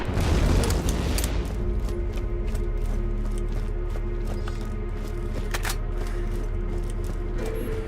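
An explosive shotgun in Borderlands fires a series of booming blasts, one heavy opening boom followed by repeated sharp bursts over a constant low rumble of game ambience.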